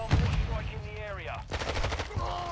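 Gunfire in Call of Duty Modern Warfare 2 rattles in loud, rapid bursts, close by, with whistling sweeps and voices in the mix.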